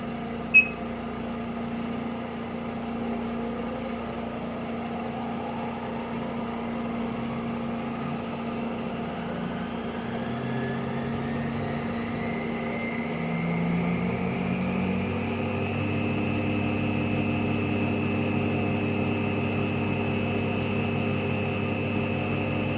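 A Cee 100CB spin coater motor whirs as its pitch rises steadily while accelerating toward 6,000 RPM, then levels off into a constant high tone, heard close and alone over a hum from the room.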